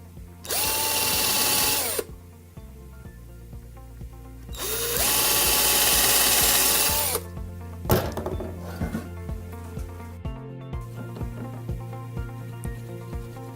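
A power drill drives screws into pallet wood in two sustained bursts with speed ramping up and down, followed by lighter knocks and handling taps of the boards being fixed together.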